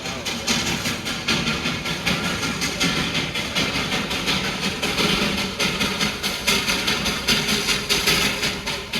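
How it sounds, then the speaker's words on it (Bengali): The Darjeeling toy train climbs toward Batasia Loop with a steady, rhythmic chugging and rumble that pulses evenly throughout at moderate distance, without any voices. "টয় ট্রেনটা ধীরে ধীরে ওপরে আসুক"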